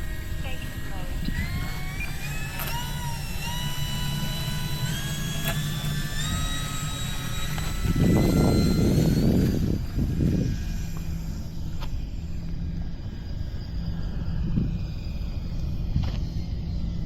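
An E-flite Turbo Timber Evolution V2 RC float plane, flaps set for takeoff, accelerates off the water with a steady high motor whine that climbs in pitch, plus a loud splashing rush mid-way before the sound thins and fades.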